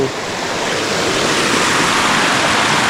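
Water pours into a garden with a steady, loud rushing hiss close to the microphone, unbroken throughout.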